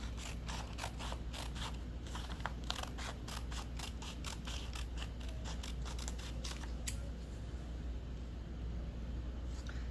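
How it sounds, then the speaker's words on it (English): Scissors snipping through paper ephemera during a collage craft session, a rapid run of short crisp cuts for about seven seconds over a steady low background hum, then quiet. "I think I'm going to cut it in half this way."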